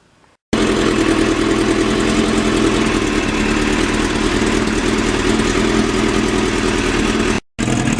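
A 2009 Kawasaki Ninja 650R motorcycle engine idles steadily and loudly up close, a continuous even drone broken by a brief dropout near the end, with no talking.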